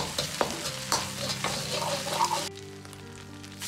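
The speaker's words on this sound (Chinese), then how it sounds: "保持中小火炒出酱香味。" Bean paste and sweet bean sauce sizzle and crackle as they are stir-fried over medium-low heat in a wok, with sharp spatula scrapes and clinks in the first half before the frying settles to a quieter hiss.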